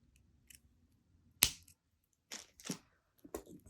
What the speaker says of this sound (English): I'm going to come in with my flesh cutter and cut off the excess.